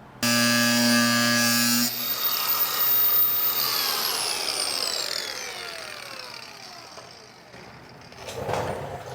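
A power tool cuts through the rusty fender of a Dentside Ford truck bed, opening with a steady high-pitched whine for about two seconds, then winding down in falling tones as the blade coasts to a stop, with a faint clatter at the end.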